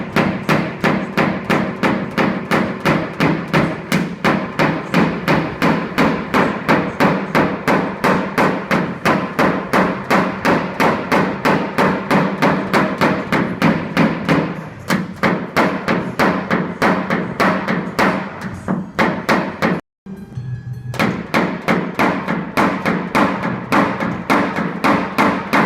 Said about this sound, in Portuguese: Por que é extremamente importante bater aqui embaixo com a madeira